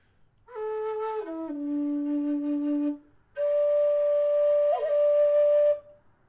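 A Kerry Optima low D whistle plays two sustained phrases, the first stepping downward through a few notes, then a brief pause and a long held higher tone with a small ornament near the end, close and clear with no talking.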